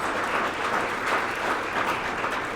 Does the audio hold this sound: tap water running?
no